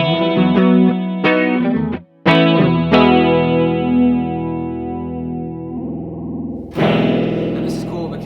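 Electric guitar run through a chorus effect pedal set to 50 percent, sustained chords and notes with a shimmering, wavering tone, ending in a brighter strummed burst, no talking.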